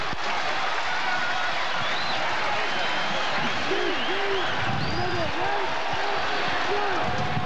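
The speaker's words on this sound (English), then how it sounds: "and the crowd loves it" A college football crowd at Cajun Field roars and cheers during a 1996 Ragin' Cajuns versus Texas A&M game, a dense, steady wall of noise that fills the whole stretch, with voices mixed in.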